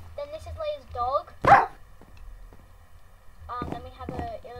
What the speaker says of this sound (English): this is Leah's dog